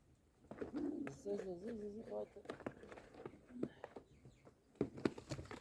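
Pigeons, a gift bird, coo in soft warbling phrases close by, with fluttering and rustling around them and quiet talk in between.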